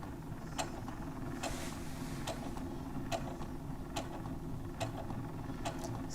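A sewing machine stitching forward slowly gives off soft, evenly spaced mechanical ticks over a low, steady motor hum, faint and close, with no speech.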